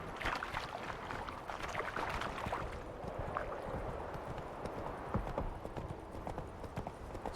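Horse hooves gallop in The Witcher 3, a dense, continuous run of clip-clop hoofbeats with a faint rustle of movement underneath, steady for the whole stretch.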